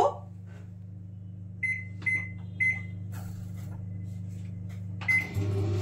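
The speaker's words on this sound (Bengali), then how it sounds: "দু মিনিটের জন্য মাইক্রো করতে দিলাম।" A microwave oven running, with a steady low hum throughout, a few short beeps as the buttons are pressed, and a louder clunk near the end, all close by and without any voices.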